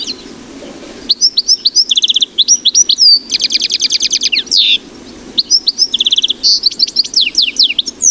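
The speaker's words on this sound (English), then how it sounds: "Goldfinch," A goldfinch sings close and clear in a rapid run of bright twittering chirps and trills, arranged in short repeated bursts with brief pauses between them, over a faint low background hum.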